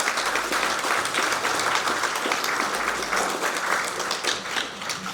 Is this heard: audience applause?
yes